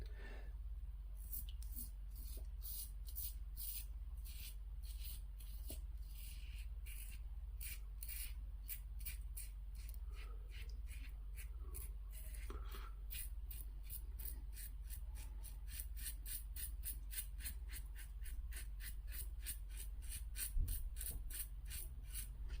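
A comfortable, smooth shaving razor scrapes across skin in quick repeated strokes, faint and close, with a soft rhythmic rasp that speeds up toward the end.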